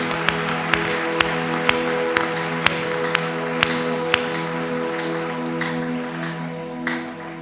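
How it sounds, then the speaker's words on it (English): A congregation at a Catholic inner healing and family retreat claps along in a steady, rhythmic beat, sharp regular hand claps over a sustained musical backdrop, fairly close and continuous throughout. "Let's clap our hands to the Lord."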